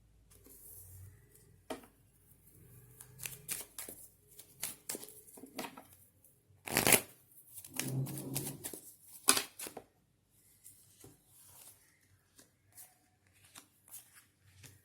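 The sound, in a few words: shuffling tarot cards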